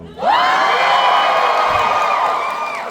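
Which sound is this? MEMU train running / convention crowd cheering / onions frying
convention crowd cheering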